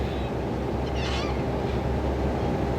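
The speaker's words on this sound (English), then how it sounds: "Can you hear the birds in the background? A lot of corellas, I think they are." A flock of corellas calls from a tree outdoors in Australia, harsh screeching cries standing out briefly over a steady, loud background wash.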